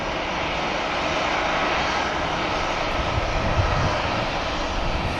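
A Ryanair airliner takes off at Manchester Airport, producing a steady, loud, continuous engine roar that fills the whole stretch without any pause.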